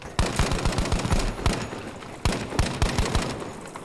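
Automatic gunfire in a Battlefield video game comes in rapid bursts of close, punchy shots, with two heavy volleys separated by a brief pause.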